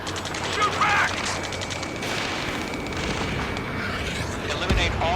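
Rapid, sustained gunfire rattles through an Ace Combat 7 mission, a continuous mid-distance barrage with occasional sharper cracks and a low rumbling bed.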